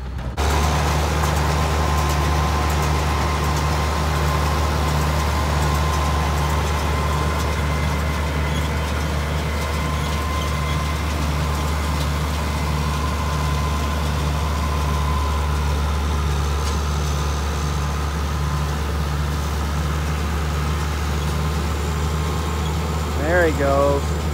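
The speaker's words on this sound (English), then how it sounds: "that tractor sounds pretty good" A tractor engine idles steadily outdoors during hay raking and baling, with a deep, loud, continuous rumble and a throbbing low drone that holds throughout.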